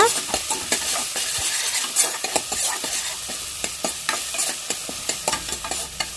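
Chopped onion and green chilli fry in oil with a steady sizzle, broken by frequent sharp scrapes and taps of a spoon stirring the pan, close by.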